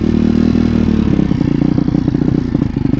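A 170 cc pit bike engine being broken in runs close and loud, with a steady rough mid-range thrum and a little rattling clatter, alone without voices.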